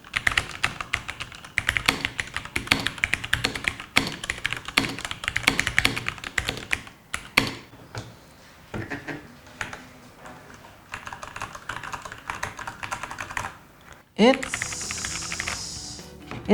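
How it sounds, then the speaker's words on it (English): Typing on an ROG Falchion keyboard fitted with Cherry MX mechanical switches, a dense run of close, crisp key clicks and taps at a quick uneven pace, pausing briefly, then resuming before a brief rustle near the end. "So these are Cherry MX mechanical switches."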